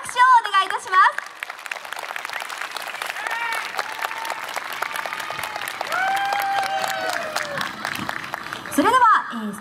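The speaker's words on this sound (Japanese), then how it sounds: "今一度大きな拍手をお願いいたします。" Crowd applause at the award ceremony of the 2019 YOSAKOI Takamatsu festival, steady clapping from an outdoor audience running underneath an announcer speaking through a PA system, with a brief musical flourish near the end.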